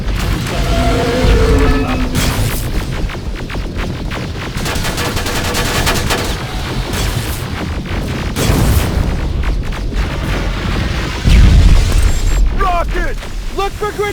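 Rocket blasts and heavy gunfire in the combat game Terminator: Resistance, a loud, dense barrage of booms and rapid shots going almost nonstop, with a big explosion near the end and a voice shouting over it.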